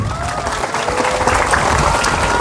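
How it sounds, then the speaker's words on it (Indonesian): Applause from a congregation during an Indonesian religious sermon: steady, dense clapping filling the whole stretch, loud and close with no talk over it. "Maka tepuk tangan untuk Indonesia tercintai."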